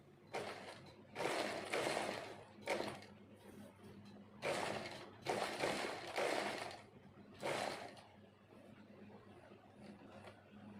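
A sewing machine stitching mirror embroidery runs in short, stop-start bursts of mechanical whirring and clatter, separated by quiet pauses, close and fairly soft, with no talking.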